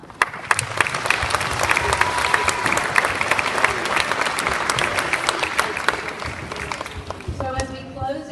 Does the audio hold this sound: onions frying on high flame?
no